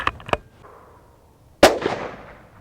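A suppressed Remington 783 laminate bolt-action rifle fires outdoors, one sharp muffled crack with a brief rolling echo trailing off behind it, preceded by a few small clicks and taps.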